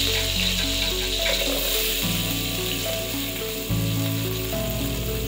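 Sliced onion with cinnamon and cloves sizzles loudly and steadily in hot oil for gonguura chicken curry, a close, constant frying hiss with soft music tones underneath and no speech.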